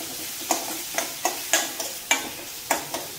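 Chopped onions sizzle steadily in a hot pan while browning for a bun biryani gravy, with rhythmic scraping strokes of a spatula stirring them about every half second.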